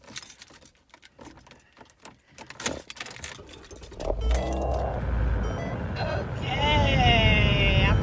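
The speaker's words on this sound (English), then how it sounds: "Let's start my car. It's going to be loud." Keys jangle and a car is started, followed by a loud engine that roars into a steady rumble and rises further near the end, with someone speaking briefly early on.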